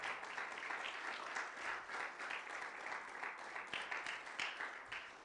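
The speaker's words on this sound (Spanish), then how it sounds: "Dele un aplauso al Señor" A church congregation claps during a sermon, giving a faint but continuous round of applause with slightly uneven, rhythmic peaks, heard alone for about five seconds.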